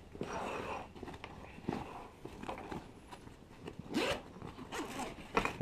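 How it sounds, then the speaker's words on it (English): The small front zipper on an ILBE assault pack is pulled in several short, quiet zips with faint handling rustle in between. "Got this small zipper on the front."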